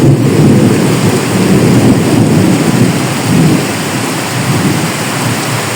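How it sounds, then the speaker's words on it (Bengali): A thunderstorm rumbles with loud thunder over heavy, steady rain pouring beside a room and into a small pond, a dense wash of sound throughout. "জোরে জোরে বজ্রপাত হচ্ছে।"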